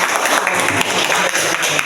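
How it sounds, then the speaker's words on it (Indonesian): Classroom applause, a loud, dense and continuous burst of clapping from a group of students, filling the room at close range with no pauses. "Tepuk tangan dulu dong."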